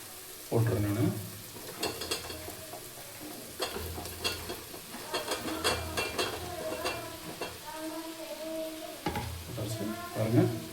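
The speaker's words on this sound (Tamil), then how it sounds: "பாருங்கள் காளானை போட்டுறேன் நான்." Chopped mushrooms sizzle and sauté in a pan for a mushroom gravy, with steady frying hiss under repeated scraping and clattering of a spoon against the pan. A voice is faintly present at times.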